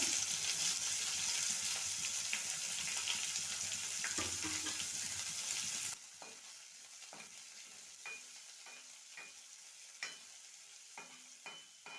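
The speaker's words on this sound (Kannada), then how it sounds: "ಈರುಳ್ಳಿ ಫ್ರೈ ಆಗಿದೆ" Chopped onions fry in a pan, a steady loud hiss of sizzling oil that drops to a quieter sizzle midway, with occasional clicks and scrapes of stirring.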